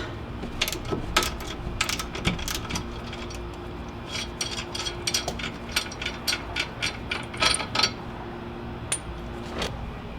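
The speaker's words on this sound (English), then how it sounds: "And now we'll unbolt it here on the axle side." Ratchet clicking in quick bursts while unbolting a Jeep track bar at the axle side, the short metallic clicks coming in irregular runs, close and moderately loud with no talking.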